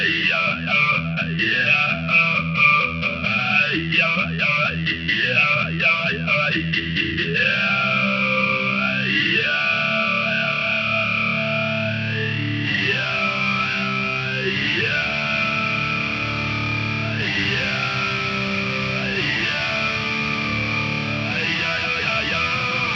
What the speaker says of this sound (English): This is great if you want a talkbox style effect.